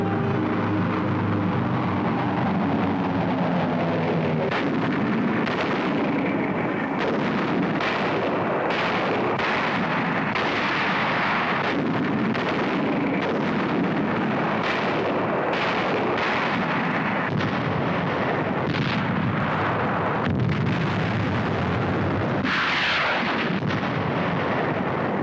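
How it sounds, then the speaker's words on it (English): Naval and aerial bombardment of Iwo Jima: a sustained, loud barrage of explosions and artillery blasts rolling over one another without pause, with thunderous low rumble throughout. "By sea and by air, Iwo Jima is subjected to more than 70 days of bombardment"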